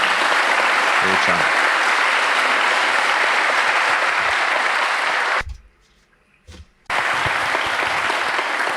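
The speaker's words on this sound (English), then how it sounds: "Please, audience, join me in a round of applause" Applause from the audience at a symposium: dense, loud clapping that fills the room, cuts out sharply for about a second while a voice speaks briefly, then resumes at full strength.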